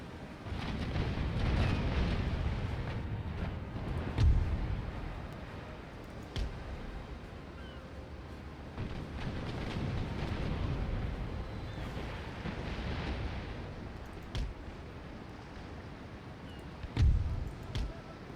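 Naval cannon volleys in Empire: Total War fire from ships in a sea battle, heard as dull booming thuds at intervals over a steady rumble of wind and sea.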